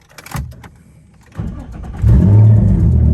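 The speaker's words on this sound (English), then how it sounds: "This time the car starts and idles, but it's in limp mode." A Nissan 350Z running in limp mode cranks over with a couple of short bursts, then catches and settles into a loud, steady, close-up idle rumble.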